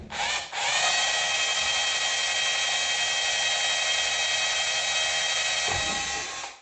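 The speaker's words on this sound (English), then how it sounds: "I'm starting off with a smaller bit, and I'm just going to pilot some holes in" A power drill fitted with a small SDS bit pilots holes into soft material, a close, continuous high-pitched whine holding steady for several seconds after a brief start-up, then winding down at the end.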